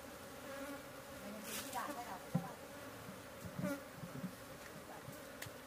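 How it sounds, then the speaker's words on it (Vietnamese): Colony of native honeybees buzzing as they fly out of a hive, a faint continuous insect drone with scattered louder passes of individual bees close by. "cái đàn ong này là đang có hiện tượng là bay ra"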